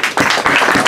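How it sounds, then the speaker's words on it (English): Audience applause at a felicitation ceremony, a short close burst of dense clapping that starts after a brief pause and carries on steadily. "he deserves all applause for that"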